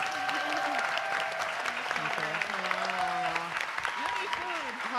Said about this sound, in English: Please give our panelists another round of applause.